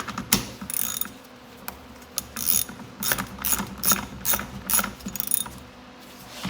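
Spark plug being threaded by hand into a Stihl FS55 gas trimmer, giving a series of quick close ratcheting clicks in short irregular bursts with brief pauses between them.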